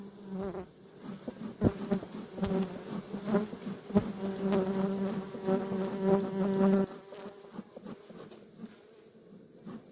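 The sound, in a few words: honey bees buzzing at a beehive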